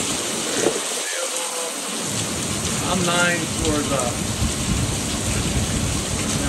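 Heavy rain from tropical storm Debby pours steadily on a deck near the beach, with thunder rumbling and someone briefly speaking over the constant downpour.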